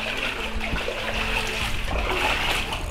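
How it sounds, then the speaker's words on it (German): Footsteps slosh and splash through shallow water in a Paris catacomb tunnel, a continuous close watery churning with irregular splatters as the steps move along. "dass man hier wieder durch Wasser läuft."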